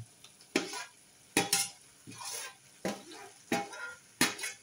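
Cluster bean masala bhaji with soy chunks is stirred in a pan, heard as six or so distinct scraping sweeps of a spoon, each a burst of rustling scrape with short pauses between, close and otherwise quiet.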